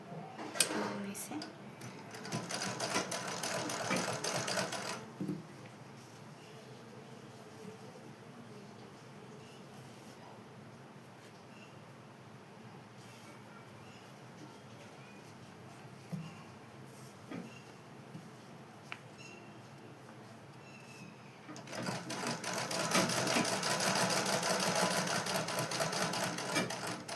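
A sewing machine stitches a blouse at the shoulder, with bursts of rapid mechanical whirring at the start and end and quieter handling sounds in between.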